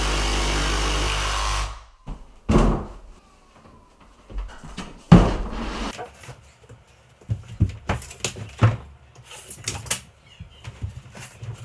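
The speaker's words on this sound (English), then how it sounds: "jigsaw it off" A jigsaw trims a shim's thickness off the edge of a lower base kitchen cabinet, a loud steady buzz for under two seconds, followed by scattered knocks, clatter and handling noises of the workpiece.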